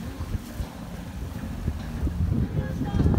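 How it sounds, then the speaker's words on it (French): A sailboat under sail at night near Saint Barthélemy, making about six knots, with steady wind rush buffeting the microphone and a continuous low water and hull wash that swells slightly toward the end. "On est toujours sous voile."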